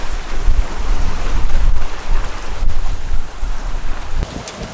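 A reefed sailboat running through wind on the open ocean: a loud, steady roar of wind buffeting the microphone over rushing water and waves, continuous with no speech.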